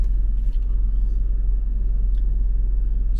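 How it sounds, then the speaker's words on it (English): Steady low rumble of city traffic at rush hour on a night drive through Cebu City, heard from inside a moving car, with continuous engine and road drone and a few faint brief sounds above it. "this is like basically the rush hour traffic now"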